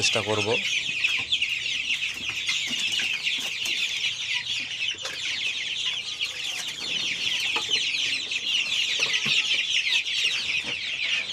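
A flock of 24-day-old Color Bird chickens peeps and clucks constantly, a dense, high chorus of overlapping chirps close by, with a few lower clucks near the start.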